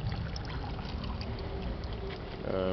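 Water from a small feature fed by underground water trickles and gurgles continuously at low level, with a slightly louder splash near the end.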